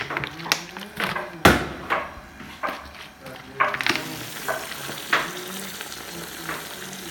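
A spoon stirs Iraqi lentil soup in a pot, giving a steady scraping and sizzling texture with soft knocks against the pot, close and moderately loud, with a voice talking over it.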